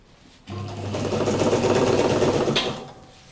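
A sewing machine runs a steady, loud stitching burst along the edge of a stuff sack's fabric, starting abruptly, holding a fast even whir for about two seconds, then winding down near the end.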